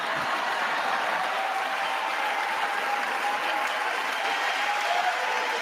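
A large audience at the State of the Union bursts into sustained applause and cheering, a dense, even roar of clapping that holds at full strength throughout.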